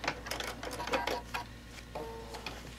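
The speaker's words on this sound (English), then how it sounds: "put the foot down, and sew off the end" A sewing machine runs in short bursts of rapid stitching while binding a quilt edge, with clicks and pauses between runs, fairly quiet and close, and no speech.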